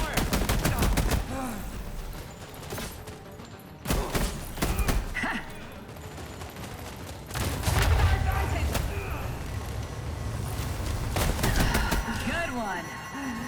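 Heavy gunfire in The Expanse: Osiris Reborn, loud sustained automatic volleys with repeated sharp shots and thudding impacts, briefly pausing before resuming intensely, with a voice calling out amid the combat.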